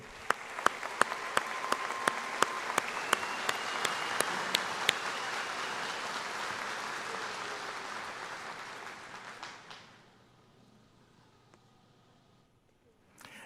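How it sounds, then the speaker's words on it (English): An audience at a Missouri University of Science and Technology commencement ceremony applauds with dense, steady clapping and a few sharp claps up front, then gradually fades out to near quiet. "let's give them another round of applause."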